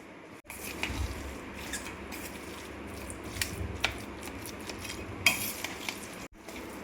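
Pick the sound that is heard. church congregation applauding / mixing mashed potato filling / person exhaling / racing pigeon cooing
mixing mashed potato filling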